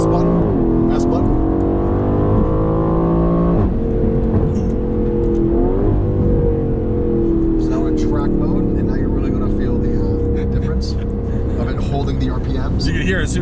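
Aston Martin Vantage engine revving hard in track mode, with loud rising and falling engine pitch across repeated throttle blips, heard from inside the car while occupants talk over it.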